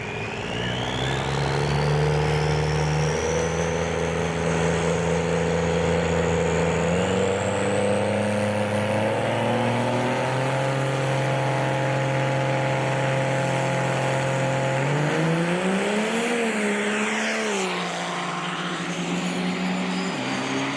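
Duramax diesel pickup trucks drag racing at a callout event, engines roaring loudly and continuously with rising pitch as they accelerate down the track, a second pass of revving near the end.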